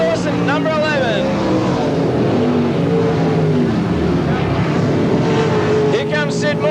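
Sprint race cars roar around the dirt oval at Parramatta City Raceway in 1985, a loud continuous engine drone with rising and falling pitch as cars pass, mixed with crowd and commentary-like voice.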